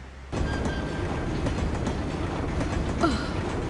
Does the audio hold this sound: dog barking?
no